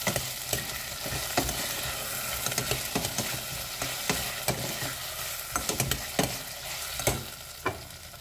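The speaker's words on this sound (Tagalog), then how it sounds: "Pwede na tayong mag-add ng tomato paste. Ayan, isang kutsarang tomato paste. And then, haluin." Fried potatoes stirred with a spoonful of tomato paste in a hot pan for meatballs: a continuous sizzle broken by frequent scraping, clacking spoon strokes, close and fairly loud, with no talking.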